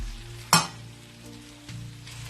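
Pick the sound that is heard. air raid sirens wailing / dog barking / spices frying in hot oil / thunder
spices frying in hot oil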